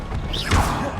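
A spell is cast in a Harry Potter wizard video game, a quick rising whoosh followed by a heavy thud-like impact, brief and close.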